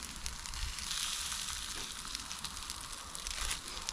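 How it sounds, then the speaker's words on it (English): Two burgers frying in a pan at a solo wild camp, a steady close sizzle and crackle of fat that swells briefly now and then. "Right, I'm sizzling away."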